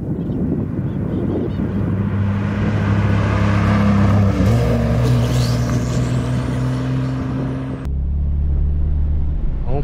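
A Porsche Turbo S and a BMW M3 accelerate hard in second gear, loud engine roar rising steadily in pitch, then an abrupt shift in tone near the end as the run continues.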